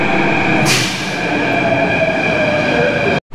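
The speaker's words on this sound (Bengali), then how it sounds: "এই যে আমাদের মেট্রো চলে এসেছে।" A metro train arrives at an Athens underground station, a loud close rumble with a steady hum and a hiss partway through, before a brief cut to silence near the end.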